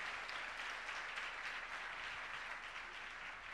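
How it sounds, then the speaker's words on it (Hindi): A church congregation applauds during a sermon, a dense, even wash of clapping held at a steady, fairly soft level for a few seconds with no voices over it. "जरा दोनों हाथों को मिलाकर जोरदार तालियां बजा दीजिएगा।"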